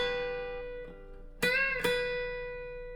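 Guitar note on the second string bent up a whole step and back down, then another note picked, a clear, close single line sustaining alone.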